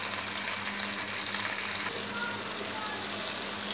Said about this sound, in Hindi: इसको मैं थोड़ी देर के लिए भूनती हूँ जब तक के ऑयल अलग हो जाए